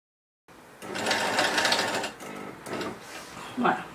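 A sewing machine runs straight stitches along a fabric AFNOR face mask with a nose clip, a steady loud whirring burst that pauses and restarts in shorter runs, ending with a brief mechanical clack.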